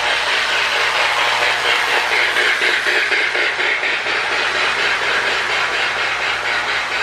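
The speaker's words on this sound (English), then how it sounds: "Sound of Steam board sounds pretty good in that Marx tender." A Lionel Sound of Steam board fitted in a Marx toy train tender gives off a steady, loud electronic chuffing with a rhythmic hissing pulse, continuous and close throughout.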